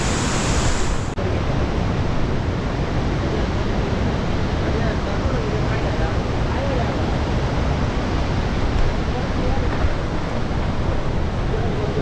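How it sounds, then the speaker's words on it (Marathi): The Napne waterfall in Sindhudurg, rushing water roaring as a loud, dense, continuous wash with wind buffeting the microphone throughout. "मेन धबधबे तिकडे आहे"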